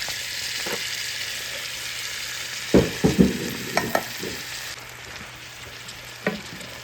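Drained canned corn frying in melted fat in a cast iron pan: a steady, moderate sizzle with a few clinks and scrapes of stirring midway, heard alone.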